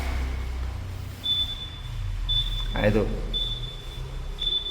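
A parked Yamaha NMAX scooter left switched on gives a repeated short, thin, high electronic warning beep, sounding about once a second at moderate volume beneath a brief spoken remark and faint background rumble.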